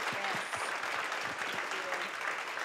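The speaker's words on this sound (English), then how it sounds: "Can we give another round of applause for Dr." An audience claps for Dr. Meghan Sullivan at an evening talk on faith and the good life: a short burst of dense, steady applause filling the room, with a voice speaking over it.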